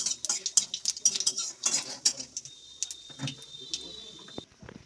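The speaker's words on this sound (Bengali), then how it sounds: "শুকনো লঙ্কা ফোড়ন দিলাম, 5 ফোড়ন দিচ্ছি।" Dried red chillies and five-spice seeds tempering in a pan: a quick run of close, bright metallic clinks and scrapes from a spatula stirring, over a thin steady sizzle, tapering off near the end.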